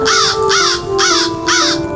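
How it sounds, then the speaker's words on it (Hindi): A crow caws four times in an even rhythm, loud and close, with a steady tone running underneath in a Hindi nursery rhyme. "काऊ काऊ चिल्लाता कौवा"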